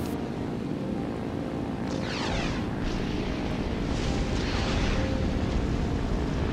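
Rockets streaking and exploding in the IL-2 flight sim video game, heard over a constant aircraft engine drone as several whooshing sweeps and rumbling blasts with no talking.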